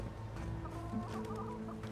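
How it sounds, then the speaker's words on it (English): Chickens cluck repeatedly in the video game Avowed, with steady close-up fowl calls and a few higher squawks over a constant low game background hum, no voices. "What are these low frame rate chickens doing?"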